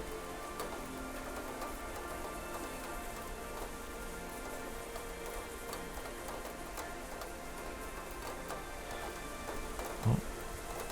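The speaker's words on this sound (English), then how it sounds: "Favorite sound in the whole world, the sound of rain." Even, soft rain falls continuously in the video game Hindsight, a dense patter of drops, with one brief low thump near the end.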